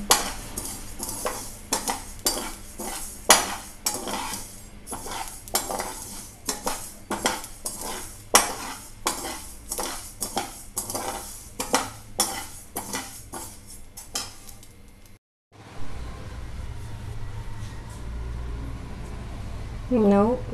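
Cumin seeds and spices being stirred in a pan, heard as repeated sharp metal scrapes and clinks of a spoon against the vessel in quick bursts, then a short break and a lower steady hum.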